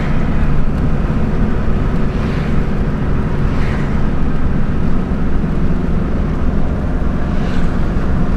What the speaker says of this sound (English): Exhaust brake is a beautiful thing